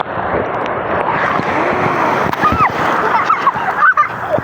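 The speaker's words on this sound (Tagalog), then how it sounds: "Andiyan, lakas ng alon guys." Strong sea waves surge and splash continuously along a shore where people are out fishing, a broad rushing wash under wind buffeting, with a few faint voices and shouts mixed in.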